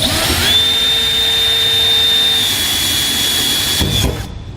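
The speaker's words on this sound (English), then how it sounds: "I'm going to start out using a rather small drill bit just for a pilot hole." A small power drill whines steadily at high pitch for a few seconds while drilling pilot holes through the bed of a 2014 Ram 2500 pickup truck, then winds down and stops.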